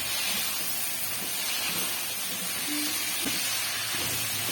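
Chopped tomatoes going into a sizzling pan for palak aloo, with a steady, close frying hiss and a few soft clanks of stirring, no voices.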